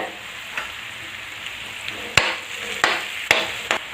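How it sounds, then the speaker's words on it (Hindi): Finely chopped tomatoes hit a pan of frying veg pulao, giving a steady sizzle with a few sharp clinks of a spoon against the pot, no voices. "अब हम इसमें डालेंगे टमाटर, चॉप करके बारीक"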